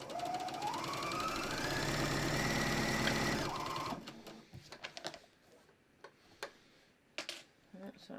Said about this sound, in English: So I'm just skimming a little bit off as I sew.